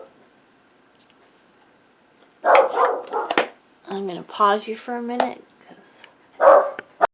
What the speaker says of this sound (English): My dog went nuts.